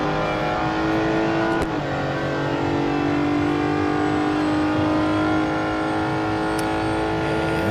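Race car engine in the Real Racing 3 video game, a steady high-pitched drone holding loud and continuous while the car runs flat out at speed, with no talk over it.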